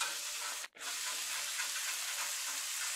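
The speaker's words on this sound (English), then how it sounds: "You want to scrape down hard and get all that off of the grill and onto the burger" A metal spatula scrapes hard across a Blackstone griddle, lifting seared pizza smashburgers off the hot flat-top: a continuous, close, gritty rasp with sizzling underneath and one brief pause early on.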